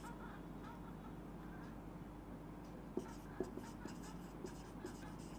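Marker or chalk scratches faintly across a board during a physics lecture on units and dimensions, a few short strokes over a low steady room hum.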